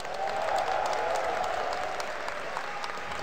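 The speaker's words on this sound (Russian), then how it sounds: "Ваши аплодисменты." Sustained applause from a large crowd at a Dota 2 esports LAN event, a dense wash of clapping that holds steady throughout at moderate distance.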